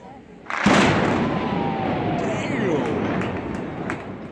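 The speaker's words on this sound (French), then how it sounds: "Il n'a pas bougé après l'explosion." Demolition blast on a 93-year-old bridge in Little Rock, a sudden loud boom that swells into a long rumbling roar and lingers for several seconds, with a few sharp cracks and faint voices in the background.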